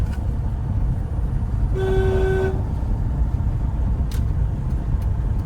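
A single short car horn toot, loud and steady for about a second, over a low rumbling engine noise.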